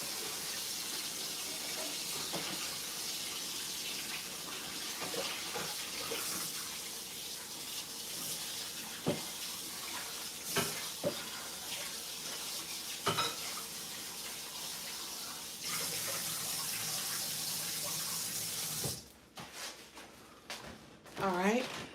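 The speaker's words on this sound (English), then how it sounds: "I'm rinsing it off with cold water." Cold tap water runs steadily into a kitchen sink as food is rinsed, a continuous hiss with occasional splashes that cuts off near the end.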